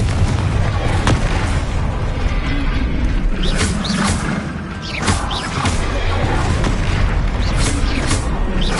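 Blasting spell explosions in Hogwarts Legacy, dense booming blasts and crashes layered over a loud roaring bed, with several sharp impacts clustering mid-clip.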